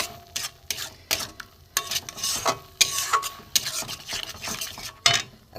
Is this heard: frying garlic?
yes